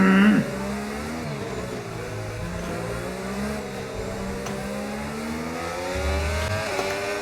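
F1 race car engine in a racing video game holds a steady high whine with gear-shift pitch dips, running continuously, loud and close, with a brief louder burst at the start.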